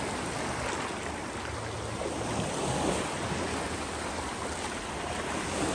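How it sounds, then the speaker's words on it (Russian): Cold sea waves at Jurmala beach on the Latvian coast wash in steadily, a loud continuous roar of surf with some wind noise throughout. "Смотрите, волны какие."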